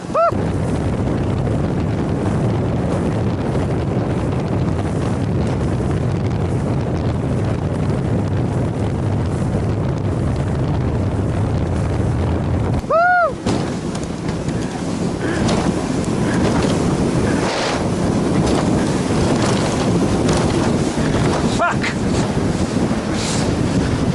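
A light 50 HP motorboat pounds over choppy waves on Lake Zegrze, its hull slapping water under steady roaring wind noise throughout, with a brief high whistle midway and a moment of lull before the rush resumes.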